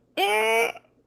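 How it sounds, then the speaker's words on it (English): A single hiccup-like vocal burst from a podcast host, a brief voiced yelp with rising pitch lasting about half a second, loud and close with no other talk around it. "I've got hiccups"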